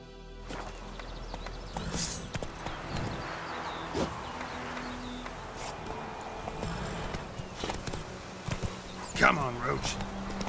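Roach the horse gallops in the video game The Witcher 3, a quick rhythmic clip-clop of hooves running under a voice, with occasional softer thuds and a brief higher cry near the end.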